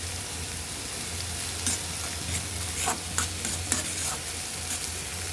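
Steady sizzling of paneer frying in oil with turmeric, chili powder and salt, with occasional scraping and stirring clicks over a constant low hiss, close and fairly loud.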